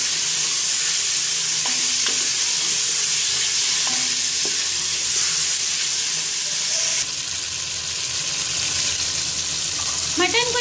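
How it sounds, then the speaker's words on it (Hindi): Mutton sizzles and fries in a pot with ginger garlic paste for Mughlai pulao, a steady hiss with occasional scrapes and clinks from stirring, close and moderately loud throughout. "मैं इसमें ऐड कर दूंगी मटन और दोबारा से इसे अच्छी तरह से भून लीजिए।"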